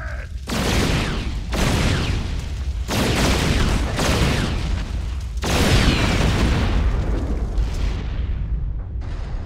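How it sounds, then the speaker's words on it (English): Railgun attacks battering an armored Thor in StarCraft II, a series of loud, heavy blasts and roaring explosive bursts, about five overlapping waves that fill the whole stretch before dropping off near the end. "he uses his powerful railguns to batter through the Thor's thick armor"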